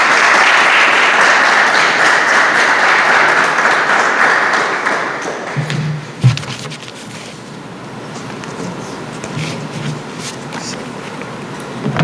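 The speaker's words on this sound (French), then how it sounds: "Sous vos applaudissements, s'il vous plaît." An audience applauds at a faculty of sciences event hosted by Radio Télé Cosmos. Dense, loud clapping runs for several seconds, then gives way to a quieter room with scattered claps and a voice speaking.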